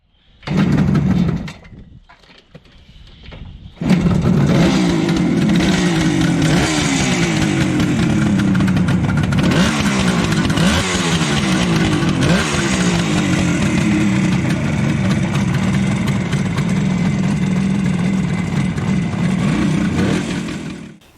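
A Kawasaki KZ1000 motorcycle engine starts after a brief sputter, then idles loudly and steadily with rumbling revs, close by, with no talking.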